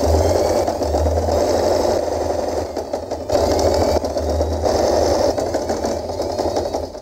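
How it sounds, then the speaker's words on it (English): Sewing machine stitching satin and organza fabric together for a layered hair scrunchie, a steady loud mechanical whir running continuously with brief dips in rhythm, close by and alone. "We are going to sew all along the fabric to join the satin and organza together"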